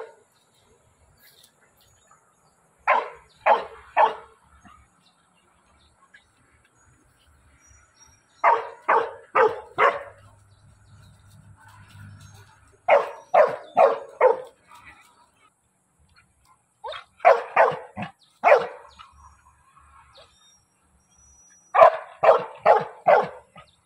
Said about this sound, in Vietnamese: Nghe giọng sủa của nó thì biết.